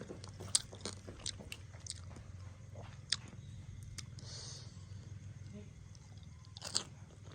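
Someone eats spicy papaya salad late at night, close-up crunching and chewing with irregular sharp bites and crisp cracks scattered over a quiet room hum, with no voice heard.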